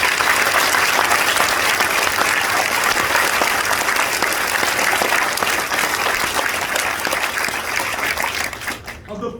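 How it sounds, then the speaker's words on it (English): A large crowd at a military graduation ceremony gives the drill sergeant team a strong, steady round of applause that stays dense throughout and tapers slightly at the very end. "Please give our drill sergeant team a round of applause."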